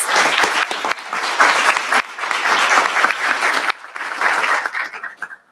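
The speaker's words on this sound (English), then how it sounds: "So one last round of applause for our National Merit finalists" A school audience gives a loud, sustained round of applause for National Merit finalists, the clapping surging in waves before tapering off at the close.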